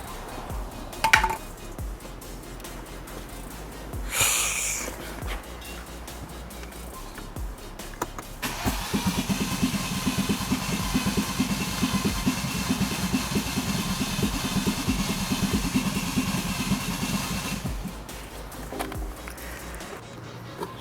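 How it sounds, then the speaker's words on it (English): After a few clunks and rustles, a Nissan N20 engine catches and runs at a steady rumbling idle for several seconds before cutting off. "Now let's start the car."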